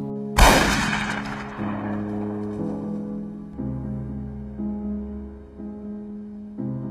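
A single loud gunshot cracks near the start, followed by a low, droning musical tone that sustains and shifts for several seconds.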